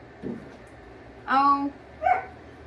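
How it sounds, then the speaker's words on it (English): A dog barks outdoors among several puppies, giving a few separate yaps and a longer whining bark over a low background hum. "there's another dog"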